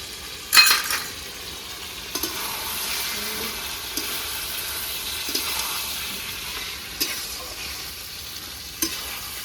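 Meat being stir-fried for Bengali kosha mangsho in a pan: a steady, soft sizzle with a few sharp spatula scrapes and knocks at intervals, close and alone without talk.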